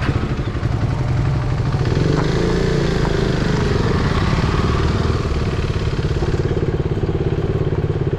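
A motorcycle engine idles loudly close by, a steady rapid putter running throughout with some clattering and thumps mixed in.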